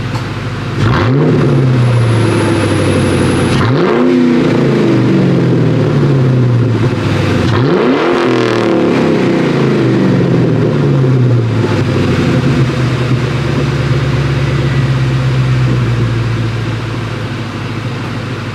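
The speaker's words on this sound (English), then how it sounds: "gonna rev it up a little bit so you can hear what the Borla ATAK exhaust is all about" A Ford Mustang GT New Edge with a Borla ATAK exhaust revs three times, each rise and fall loud and deep, before settling to a steady rumbling idle.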